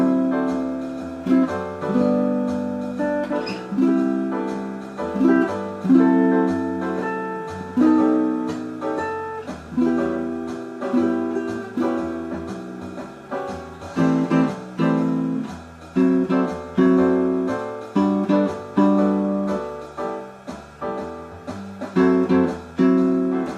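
A guitar plays chords voiced on the middle strings, fifth to second, strummed in a steady rhythmic pattern of repeated attacks that rings clearly and closely throughout with no voices.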